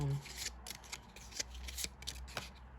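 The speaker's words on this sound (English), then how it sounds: "Okay, these came out, but I need to shuffle which of these three" Tarot cards are shuffled by hand in a quick run of soft, papery riffling flicks, close and fairly quiet, with no talking over them.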